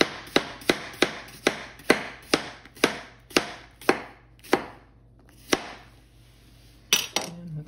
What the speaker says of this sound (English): you're simply just going to slice these into about quarter-inch slices